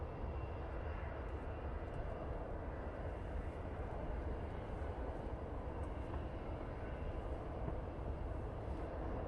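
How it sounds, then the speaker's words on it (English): A Ryanair Boeing 737 MAX 8 airliner arriving from Malta at Manchester Airport on a windy day, heard as a steady, broad jet-engine roar that holds evenly at moderate, distant level throughout with no talk. "Ryanair, now coming in. This is coming in from Malta, and they're using the 737 MAX 8 for this flight."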